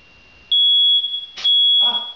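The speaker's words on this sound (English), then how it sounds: "Ah, the smoke alarm." A loud, piercing smoke alarm sounds in a steady high tone, broken by brief bursts of clatter near the end.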